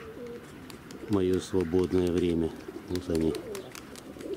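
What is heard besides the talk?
pigeons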